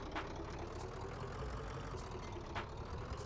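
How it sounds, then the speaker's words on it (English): A vehicle engine in a desert exploration role-playing game hums at a steady idle, a low, continuous rumble with a few faint clicks over it and no talking. "so I can't really turn down the engine sound"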